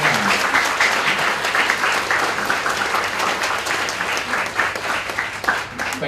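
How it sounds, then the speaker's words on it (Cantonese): Guests at a Christian wedding give the newlyweds a dense, sustained round of loud applause that fills the room without a break. "我哋咧俾啲熱烈嘅掌聲啊"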